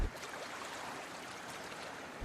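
Waves churned up by a small pleasure boat at sea wash and hiss steadily in a dense, continuous rush, close by and fairly quiet, with no voices.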